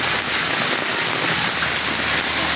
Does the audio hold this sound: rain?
yes